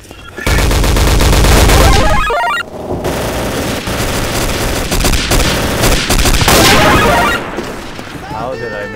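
Rapid gunfire from a Day of Defeat: Source gun game match, loud bursts of automatic fire and shots running almost continuously over game sounds, with a voice talking in places.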